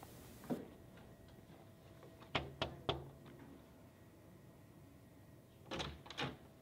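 Door handling in a quiet college hallway: a faint early knock, then three sharp clicks or knocks close together, followed later by two more, all soft against low room hum.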